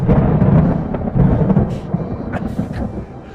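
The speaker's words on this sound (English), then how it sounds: "Alas, the storm has come again." Thunder from a storm in a staged performance of The Tempest: a heavy, continuous low rumble that rolls and swells, then gradually fades, with no speech over it.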